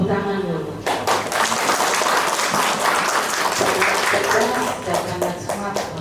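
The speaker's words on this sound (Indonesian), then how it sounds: "Tepuk tangan dulu." Loud applause from an audience at a government speech event in Kaimana, a dense burst of clapping that carries on steadily throughout.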